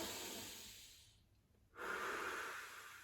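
Slow, deep diaphragm breathing sounds close and soft: one long airy exhale fades into a brief pause, then a steady drawn-in inhale follows, with no talking.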